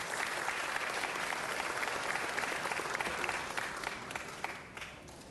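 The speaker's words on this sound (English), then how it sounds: "Let's give them one more round of applause." Sustained applause from a sizeable crowd at a city council meeting, loud and even, tapering off toward the end.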